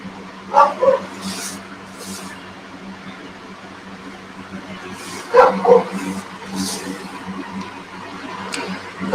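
A roommate's dog having a fit as someone comes to the door, two short bursts of sharp barks and yips several seconds apart over a steady low indoor hum.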